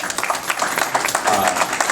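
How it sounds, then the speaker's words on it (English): Audience applause at a speech honoring Dr. King, a steady wash of many hands clapping at moderate loudness throughout, dense and even with no voices on top. "I'm glad you applaud"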